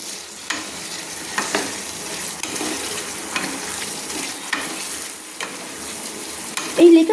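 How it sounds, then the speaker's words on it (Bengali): Kabuli chickpeas being sautéed with spices in a pan, a steady soft sizzle with intermittent scraping stirs of a spoon, close and continuous with no talking. "প্রায় মশলার সঙ্গে আমি 1 মিনিট মতো কিন্তু কাবলি চানাগুলো কষিয়ে নিচ্ছি।"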